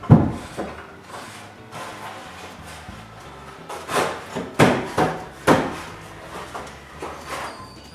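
Hammer blows drive nails into wooden ceiling joists during construction of a new workshop's interior, a series of sharp, irregular woody knocks with resonant thuds, close and fairly loud.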